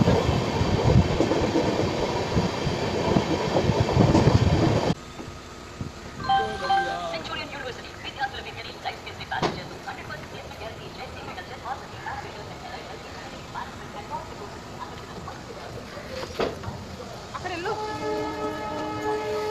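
Lingampally–Vijayawada Intercity Express train no. 12796 rolling on the rails near Lingampally, a loud rumble for the first five seconds, then quieter steady running with sharp clanks and occasional tonal squeals, under a voice speaking.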